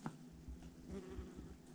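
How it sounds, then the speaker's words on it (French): German wasps buzz at their nest, a faint, low, continuous drone that wavers slightly in loudness throughout. "Donc ça c'est de la guêpe germanique."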